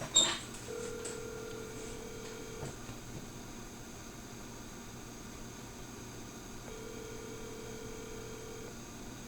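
A telephone call is placed from a workshop where a homemade bandsaw is being built: a brief burst of dialing opens, then a steady ringback tone sounds twice with a long gap between, faint over a constant background hum.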